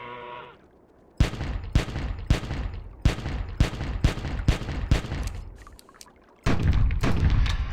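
Pistol shots in the Carnivores 2+ hunting video game ring out as a rapid string of about a dozen sharp, evenly spaced cracks, followed by a denser burst of loud noise at the end.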